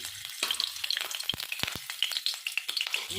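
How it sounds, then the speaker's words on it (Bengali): Oil with a little salt sizzles in a wok over a gas flame, a light crackling hiss with scattered sharp pops and a few louder spatters, fairly close and with no voices. "আমি কড়ার মধ্যে এবারে তেল দিয়ে দিলাম সামান্য আমি নুন দিয়ে দিলাম"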